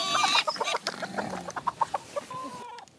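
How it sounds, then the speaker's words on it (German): A hen on a French farm clucks in a rapid series of short, close calls, with one sharper squawk at the start and quieter clucks trailing off near the end. "Sie ist mein Huhn."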